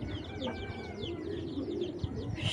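A khaki pigeon coos softly at close range in a repeating rolling pattern, with faint chirps and background murmur around it.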